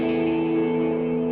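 Worship band music soaked in reverb and rhythmic echo delay, sustained chordal tones ringing steadily and washing together with no break, loud and close, no voices.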